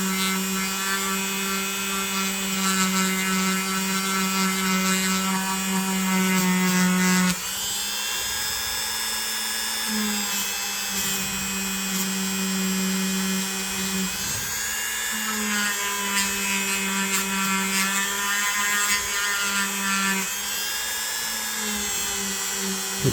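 A rotary polishing pad buffs an antique pocket knife blade, a high motor whine with shifting pitch as pressure changes, steady and close, broken by brief dips, no talking.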